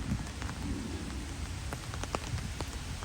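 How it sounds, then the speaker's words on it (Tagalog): Heavy rain pouring down outdoors, a dense continuous hiss with scattered heavier drops striking nearby surfaces, loud and steady with no voices. "Alam, malakas lang ulan."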